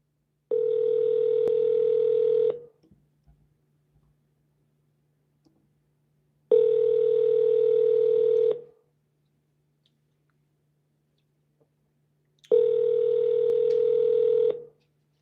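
A telephone call ringing out: three long, steady ring tones about two seconds each, spaced by silent pauses, clear and close with nothing else heard.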